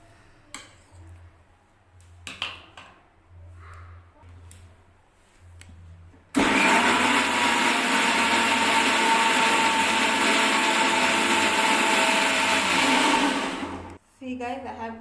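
Electric grinder running loud and steady for about seven seconds, pulverising ingredients into a fine paste for homemade hair oil with mustard oil, preceded by quiet handling clicks and followed by a sudden stop.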